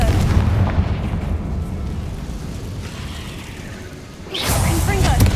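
Confringo blasting spell in Hogwarts Legacy, a booming fiery explosion with whooshing rumble at the start, fading into a low roar, then another loud blast near the end, with a voice casting the spell in between.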